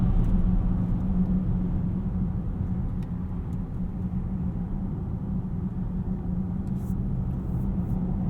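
Steady low rumble of a 2018 Volvo XC60 T6 AWD R-Design cruising at night, a constant dense road and engine drone with no breaks, heard from inside the cabin.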